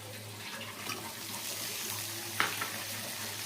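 Turmeric, ginger and garlic sauté in a pan, giving a soft, even, watery sizzle throughout, with a faint clink of stirring near the end.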